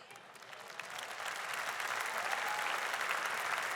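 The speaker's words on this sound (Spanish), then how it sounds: "yo creo que tú le puedes dar tu mejor aplauso al Rey de Reyes y Señor de Señores" A church congregation applauds during a Sunday service, steady broadband clapping that builds slightly and holds, moderately distant, with no talk over it.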